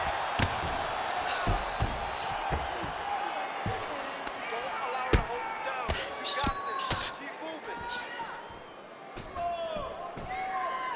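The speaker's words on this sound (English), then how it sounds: "Oh, crowd pops as she reverses position." Arena crowd in the UFC 5 video game popping loudly as a fighter reverses position, a sustained roar with sharp impact thuds and whistles scattered through it.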